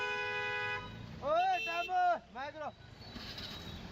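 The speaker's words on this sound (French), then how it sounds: "Et on avance au klaxon, ça fait partie de leur culture." Car horns toot in busy Nepal street traffic, several short tonal honks in quick succession amid a low traffic rumble, with people talking in the background.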